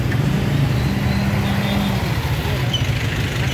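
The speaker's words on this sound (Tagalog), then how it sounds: "Sobrang traffic." Heavy road traffic in Binangonan near Antipolo, heard from a motorcycle ride: steady engine drone and passing vehicles, with a brief low hum rising midway.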